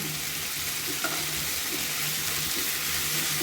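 Prawns frying in a pan with a cooked-down spice paste for pui metuli, a steady loud hissing sizzle with faint stirring scrapes, close and continuous without speech.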